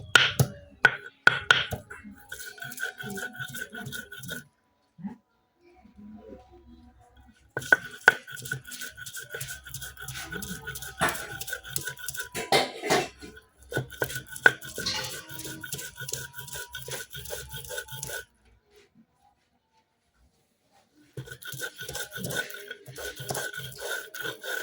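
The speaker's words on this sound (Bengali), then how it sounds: "এখন বাইটা লইয়াম আদা, কারণ শুটকির ভর্তার মধ্যে কিন্তু আদা না দিলে একদম ভালো লাগে না।" Ginger being ground into paste for a dried fish mash, heard as bursts of rapid scraping and rubbing strokes on a grinding stone, separated by short pauses.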